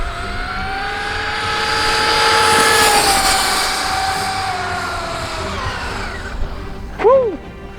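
Arrma Mojave and Traxxas UDR RC trucks on a speed run, a high electric whine swelling as they pass and fading into the distance, ending with a brief loud burst.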